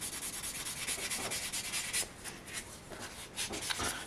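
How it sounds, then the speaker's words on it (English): Fine 320-grit sandpaper is rubbed back and forth over a resin model figure, producing soft, close, rhythmic scratchy strokes that continue steadily without talk. "Now I'm coming in with a 320 grit, which is, you know, very fine, and I'm just gonna go ahead and smooth out where I sanded."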